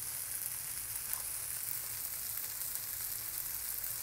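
Tomatoes soften in a pan for prawn masala, producing a soft, even, continuous sizzle that stays faint and steady throughout, with no stirring or voices.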